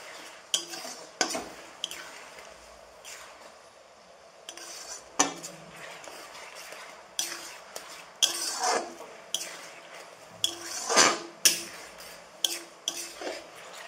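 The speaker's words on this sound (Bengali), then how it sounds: "পেঁয়াজটা আমি ভালোভাবে ভেজে নেব।" Onions fried and stirred in a pan while making palong chicken: a utensil scrapes and clinks against the pan at irregular intervals over a faint, low sizzle, close up and without speech.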